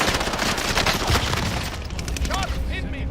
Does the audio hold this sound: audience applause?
no